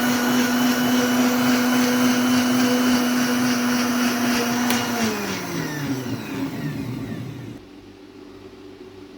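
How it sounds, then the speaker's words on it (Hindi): A blender blending almond milk whirs loudly at a steady pitch, then winds down and slows to a stop, leaving a faint hum. "इसको ब्लेंडर को हम दोबारा चलाएंगे"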